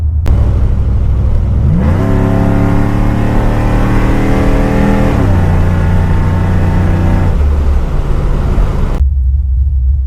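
Cammed 6.0 V8 in a swapped Chevrolet Silverado truck revs hard and loud in a long pull, its pitch rising through the range, dipping, then climbing again before it cuts off abruptly.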